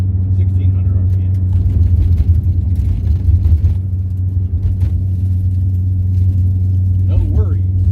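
An LS V8-swapped Porsche 944 pulls uphill in fourth gear from about 1600 RPM, its low engine rumble steady and loud inside the car, while someone talks over it.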